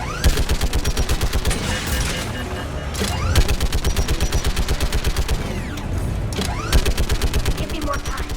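Heavy rapid automatic fire from a Geth turret in Mass Effect 3, a dense, steady machine-gun rhythm running throughout, loud and close, with brief pauses near three and six seconds and a shouted voice over the din.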